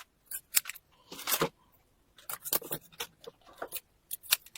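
Kitchen scissors snip the fins off a raw mackerel in short, crisp clusters of cuts and metallic clicks, close and fairly loud with quiet gaps between bursts.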